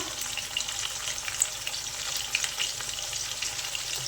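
Cauliflower being stirred and fried in hot oil for aloo gobhi matar, a close steady sizzle with light crackles and a few soft stirring knocks, no talk.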